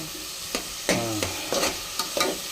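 Onions, shallots and green chillies being sautéed in a pan, with a spatula stirring in repeated scraping strokes about every half second over a soft sizzle, close and moderately loud, no talking.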